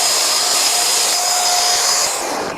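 A POKK 1000W HVLP electric paint sprayer runs with a loud, steady, close-up blower roar and a thin whine that stays constant, then eases slightly toward the end.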